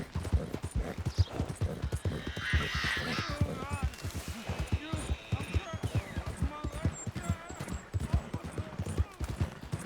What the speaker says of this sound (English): Come on, Pearl, you beautiful horse.